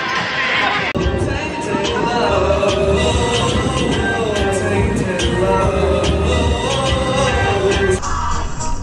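A small roller coaster train at Fun Land in Towyn, North Wales, rumbles steadily along its track with a continuous rolling clatter and faint metallic squeals, close and fairly loud throughout.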